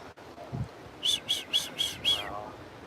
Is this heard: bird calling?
yes